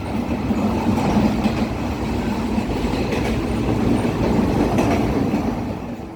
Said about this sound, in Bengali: দ্রুতগামী আমাদের ট্রেনটি টানেল অতিক্রম করতে 50 সেকেন্ড সময় নেবে